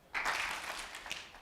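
A talk audience breaks into a round of clapping that starts abruptly and holds as a dense, moderately distant patter of many hands for about a second before thinning.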